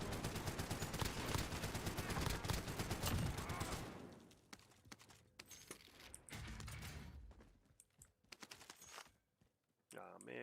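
Rapid, sustained automatic gunfire in a first-person shooter video game rattles loudly for about four seconds, then breaks into sparser, scattered shots and clicks with brief pauses, while a voice talks faintly underneath.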